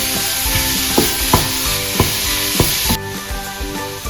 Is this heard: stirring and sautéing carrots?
yes